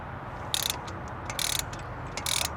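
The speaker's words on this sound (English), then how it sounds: "Wait, are you torquing them fully?" A ratchet clicks close up as clutch bolts are torqued during a clutch install. Three short bursts of rapid pawl clicks stand over a low hum.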